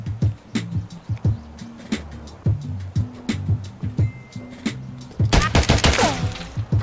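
Rapid bursts of gunfire in the video game Escape from Tarkov, rhythmic repeated shots throughout, ending in a louder dense flurry with metallic rattling and ringing.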